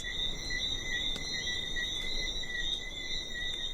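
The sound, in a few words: little frogs chorusing at night on a Caribbean island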